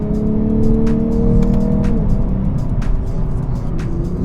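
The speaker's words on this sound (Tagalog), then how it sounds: "this naturally aspirated engine a bit rewarding to drive, since you have to wring it out to get all that power" A 2022 Lexus IS naturally aspirated engine revs loudly up close, its note holding high, then dropping in pitch partway through before humming on at a lower pitch.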